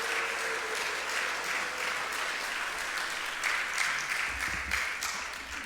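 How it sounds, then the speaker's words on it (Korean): Congregation applause during a Korean church worship service, a sustained, even wash of many hands clapping at a fairly soft level, with no voices breaking through. "우리 박수 한번 해주시기를 부탁을 드리겠습니다"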